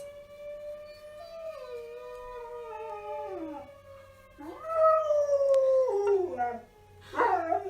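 A dog near a fire station howls at passing fire sirens, in long, wavering, sliding howls that rise and fall across several drawn-out phrases, loud and close and ending in a strained, broken yelp.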